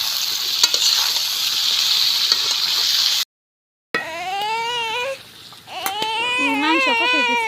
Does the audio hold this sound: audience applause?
no